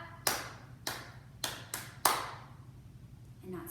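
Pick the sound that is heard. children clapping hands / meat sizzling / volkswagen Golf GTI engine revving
children clapping hands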